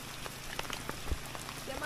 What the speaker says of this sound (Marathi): पाऊस पण भरपूर पडत आहे.